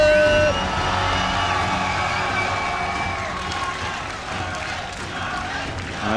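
A large esports crowd at IEM Toronto cheers and applauds for Scarlett before a StarCraft 2 match, a loud, steady roar that fades slightly partway through and then swells again.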